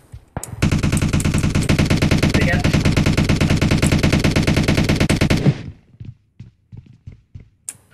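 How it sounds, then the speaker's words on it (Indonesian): Rapid, sustained automatic gunfire in PUBG Mobile hammers out loud and close for about five seconds in an unbroken rhythm, then cuts off, leaving a few scattered sharp taps and brief voices. "Siapa nembak tuh?"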